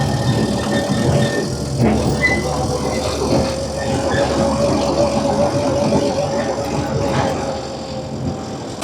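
A toy train engine runs at a slow pace beside a lake in a park, giving a steady mid-pitched rumble and rattle that stays loud and continuous.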